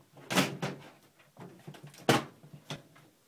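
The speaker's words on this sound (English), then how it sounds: "as I put my case panel back on." A computer case side panel being fitted back on, with a few soft thumps and clicks of panel against the chassis, fairly quiet and close.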